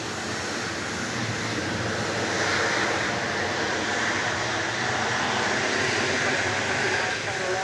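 A Boeing 737-700 arrives at Dallas Love Field on flight 2559 from Tulsa, its steady engine roar broad and continuous at moderate distance, with wind-like rushing throughout and a voice talking over it.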